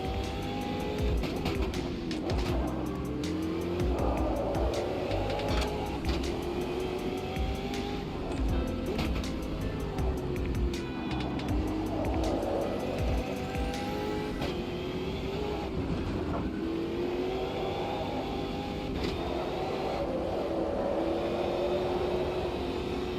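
A race car in a racing game corners hard with understeer, its engine revving and changing pitch while the tires squeal and scrub through fast left-hand bends, loud and continuous with no talk over it.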